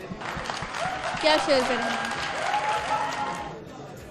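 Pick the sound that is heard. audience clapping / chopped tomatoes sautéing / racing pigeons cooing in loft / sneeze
audience clapping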